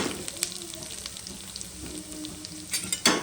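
Steamed muthiya stirred into a hot sesame seed and cumin tempering in a pan, giving a steady close sizzle with scraping stir strokes and a couple of louder utensil clinks near the end.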